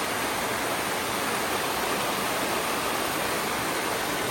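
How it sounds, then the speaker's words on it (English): Water in a mountain brook runs down over rocks below a footbridge, making a steady, soft rushing hiss that holds evenly throughout with no voices. "I'm coming up to a footbridge here, and this is called Jacob's Brook."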